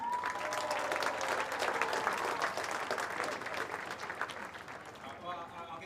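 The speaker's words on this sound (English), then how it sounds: "And in lane 8, closest to you, getting the biggest roar, it'll be from Jersey, it's Lucy Coyu." Stadium crowd at the Orkney 2025 Island Games athletics applauding and roaring sprinters in their lanes, a dense sustained clatter of clapping that fades slightly toward the end, while an announcer speaks over it.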